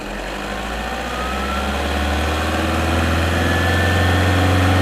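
An Isuzu diesel engine with a turbocharger revs up toward 3,000 rpm during a boost pressure sensor check, a steady droning hum whose loudness climbs gradually and stays strong and close.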